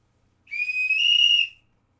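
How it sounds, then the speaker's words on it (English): A single sharp whistle blast, steady and clear for about a second, with nothing else around it. "Whistle."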